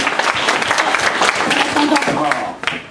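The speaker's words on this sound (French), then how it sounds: "Et vous pouvez l'applaudir" A television studio audience claps for an older performer about to sing, loose, uneven applause with distinct individual claps mixed with voices talking over it, fading slightly near the end.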